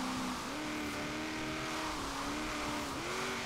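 Engine of a car in Forza Horizon 3 drones loudly and continuously with rising and falling pitch, the car sliding with a steady tire squeal layered over the motor, close and with no talking.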